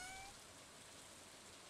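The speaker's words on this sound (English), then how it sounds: "And it's raining too." Rain falls in the farming video game Stardew Valley, a soft, steady hiss of a downpour that stays even and faint throughout, with no voices.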